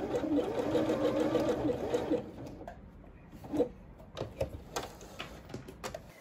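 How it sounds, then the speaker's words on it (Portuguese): A sewing machine with its feed dogs lowered runs a zigzag stitch in a quick, steady whir for about two seconds, then stops, leaving scattered light clicks and handling noises. "eu vou costurar no ponto zigue-zague, eu abaixei os dentinhos da minha máquina"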